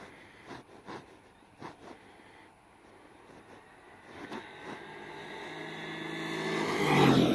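A JLB 21101 RC car's electric motor winds up at full throttle, starting with scattered clicks and short bursts, then whining steadily louder and higher to a loud peak at the end.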